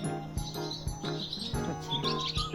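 Birds chirp in a spring garden with flowers in bloom, with quick high tweets scattered over a busy low background of knocks and hum, fairly faint.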